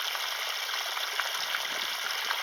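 A stream current flows past in a soft, continuous trickling wash, hissy and even with faint gurgles, moderately close and without voices.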